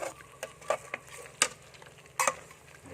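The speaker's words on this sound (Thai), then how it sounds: "คนอ่ะ คนเข่ากัน" A spoon stirs a Thai red coconut curry with catfish and leaves in a pot, making a few sharp scrapes and clinks at an uneven pace over a quiet simmer.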